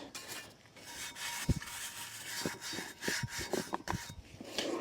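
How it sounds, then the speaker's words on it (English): A wire brush scrubs thick rust off old iron weights with repeated rasping strokes, close and fairly loud, in an irregular rhythm with sharp scraping bursts and no talking. "I'm going right to the wire brush"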